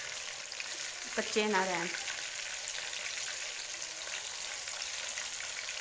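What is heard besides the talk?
chicken koftas frying in oil on low heat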